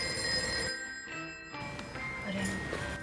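A telephone bell rings in a home during a Pakistani drama telefilm scene: a steady, fairly loud electronic trill that breaks off briefly, then resumes and rings on to the end.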